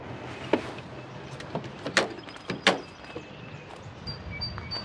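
A side door opens with a few sharp clicks and thumps of its latch and panel, close by and moderately loud against a quiet room.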